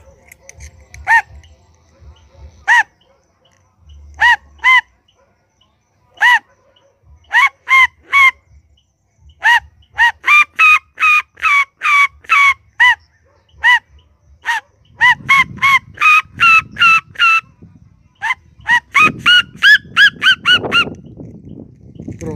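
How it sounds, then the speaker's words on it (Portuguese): Red-legged seriemas call in a duet, loud repeated yelping notes that start sparse, then speed up into a rapid, overlapping rhythmic series, with faint rustling underneath. "Geralmente a sirima canta em dueto."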